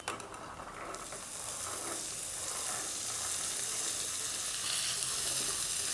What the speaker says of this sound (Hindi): अब हम आँच को धीमी रखेंगे और इसमें सबसे पहले हम मटर डालेंगे।